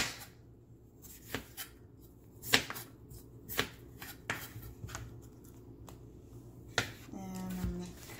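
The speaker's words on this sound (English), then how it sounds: "So I'm going to start by cutting the cucumber." A knife chops through a cucumber on a cutting board in scattered, sharp knocks that come close and fairly quiet, with a voice briefly heard near the end.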